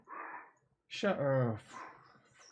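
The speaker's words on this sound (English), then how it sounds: "freaking dog." A dog gives a sharp bark and a short whining yelp close to the mic, while someone speaks just before and after it.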